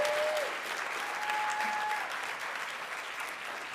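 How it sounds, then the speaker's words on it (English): An audience at a design symposium gives staff a round of applause, a steady wash of clapping that is moderately loud and eases off slightly toward the end. "Can we get a round of applause for everyone else whose work is on scene?"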